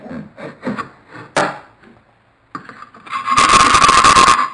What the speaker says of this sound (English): Sand all the way around with a light sanding, and then test to see if it fits.